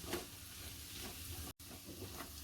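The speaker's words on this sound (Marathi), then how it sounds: "रताळ्याच्या सोबत आपण ड्रायफ्रूट चांगलं परतून घेऊया" Sweet potato pieces and dry fruits sauté in a pan for a fasting kheer, a low, quiet sizzle with faint scraping of a spoon, briefly cut by a split-second dropout.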